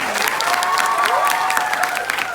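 A comedy show audience bursts into loud, dense applause mixed with some cheering, sustained throughout with no voice speaking over it.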